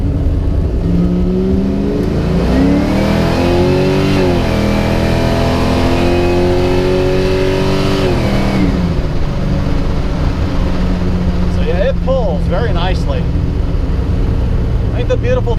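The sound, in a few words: Camaro engine revving while accelerating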